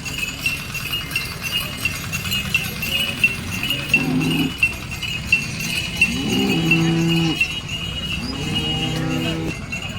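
A cow at a cattle market in Sangola lets out several loud, drawn-out moos over a busy crowd murmur, with other cattle lowing nearby and occasional sharp knocks.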